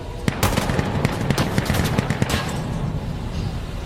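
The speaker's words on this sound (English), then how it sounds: "Machine gun fire, left side." Machine gun fire in the game Insurgency: Sandstorm, loud rapid bursts of gunshots packed close together, steady rattling that thins out toward the end, with a faint voice underneath.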